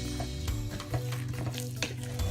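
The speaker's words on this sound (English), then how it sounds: "So keep stirring the rice." Jollof rice is stirred in a pot over very low heat, with a soft continuous sizzle and repeated scraping strokes of a spoon close by, no one speaking.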